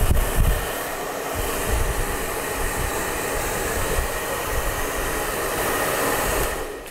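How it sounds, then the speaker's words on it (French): A hair dryer blows steadily on a hair system, with a continuous broadband whoosh and low rumble, fairly loud and close, running the whole time with no talking. "Tu peux utiliser un sèche-cheveux pour accélérer le séchage."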